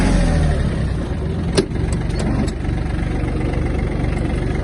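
Yanmar AF-24 mini tractor engine running in first gear at low speed, a loud, steady, close diesel drone with a brief mechanical clunk partway through and no talking.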